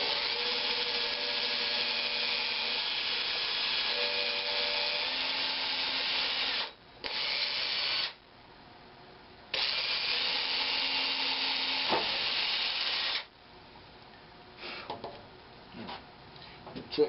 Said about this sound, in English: I'm just going to drill a hole straight through.